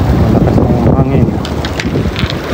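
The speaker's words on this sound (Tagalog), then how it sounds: "Malakas na yung hangin." Strong gusting wind roars and buffets against the microphone by a river in Taiwan, a steady loud rush with a voice faintly under it.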